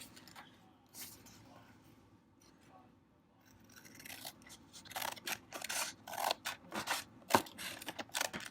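Scissors cutting the top off a paper item for a spring journal: quiet rustling at first, then a run of sharp close snips and crisp scraping cuts, with soft handling noises between them.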